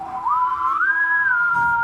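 A person whistles a single sustained, wavering note that slides upward and holds, imitating a creature's call, clear and close with no talking.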